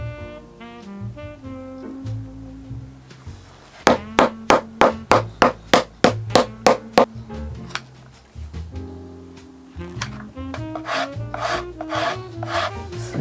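Rasping of a shoe heel top lift made of leather and rubber during bespoke handmade shoemaking, heard as a loud run of about a dozen quick, evenly spaced scraping strokes, followed by more scraping amid softer workshop handling noise.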